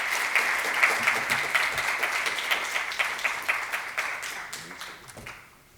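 A conference audience applauds at a medical plenary session, many hands clapping in a dense, lively patter that starts strong and slowly thins out and fades near the end.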